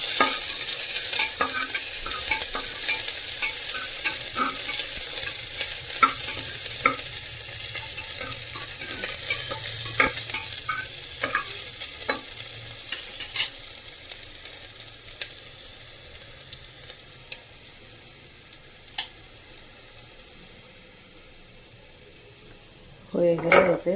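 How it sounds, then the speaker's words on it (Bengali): Chopped garlic fries in hot oil with a continuous sizzle, punctuated by frequent spatula scrapes and taps against the pan, close up; the frying slowly quiets toward the end before a final clatter. "ব্রাউন অবধি ভেজে নেব।"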